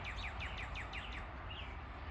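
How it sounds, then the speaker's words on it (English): Birds chirp outdoors near a mulberry tree, a quick run of repeated high tweets followed by a single later call, faint against soft background noise. "Y'all hear the birds?"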